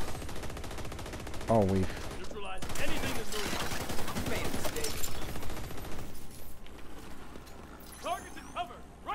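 Rapid gunfire from The Division 2 rattles in bursts and single shots, loud and close, under and between excited talk from a player during a co-op match.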